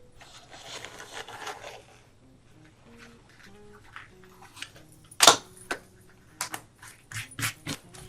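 Craft foam is cut by hand. After a quiet stretch, one sharp snip is followed by several short crisp cutting and scraping sounds at close range.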